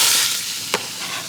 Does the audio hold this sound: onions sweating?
yes